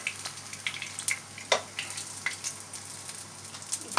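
Chopped garlic sizzles and crackles in hot oil left after frying paneer for chilli paneer, a steady close frying hiss with scattered pops and a light stir or clink.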